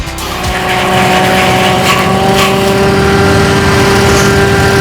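Pineapple fibre extraction machine running as leaf fibre is fed back through it, a loud, steady mechanical drone with strong tonal hum and rattling, continuous for the whole stretch with no talking.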